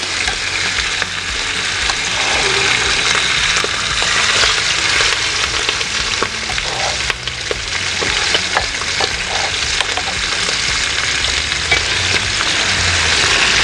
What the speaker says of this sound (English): And we're going in there with a nice sizzle.